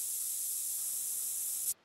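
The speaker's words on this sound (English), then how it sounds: "if I put on more scent spray" Scent spray in the hunting video game theHunter: Call of the Wild, one steady close hiss lasting nearly two seconds and then cutting off abruptly.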